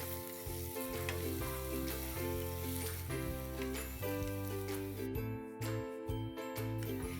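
Finely chopped garlic and ginger frying in a pan while being stirred, a steady soft sizzle with light scraping and clinks of the spoon, faint and with no talk.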